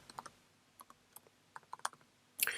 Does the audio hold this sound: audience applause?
no